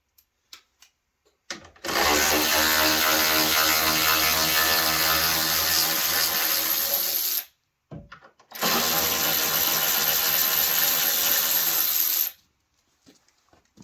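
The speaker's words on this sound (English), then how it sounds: "Take these bolts out." A powered ratchet whirs loudly up close as it backs bolts out of a Ford F-150 headlight assembly, running in two long steady bursts separated by a brief pause, with faint clicks before and after.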